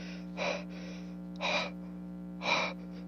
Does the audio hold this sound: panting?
yes